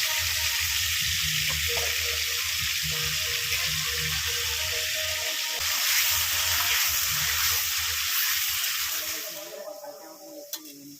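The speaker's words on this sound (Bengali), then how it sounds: "কড়াই আমি তেল গরম করে নিয়েছি, তারপরে দিয়ে দিলাম অল্প পরিমাণে নুন, তারপরে ছেড়ে দিলাম আলুগুলো" Sliced potatoes with a little salt and turmeric sizzle in hot oil in a kadai, a dense steady frying hiss that holds for most of the time and then softens toward the end.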